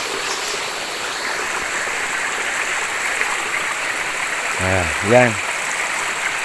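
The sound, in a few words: flowing stream water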